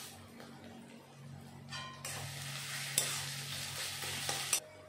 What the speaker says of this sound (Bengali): এখন ভালো করে মশলাটাকে কষিয়ে নেব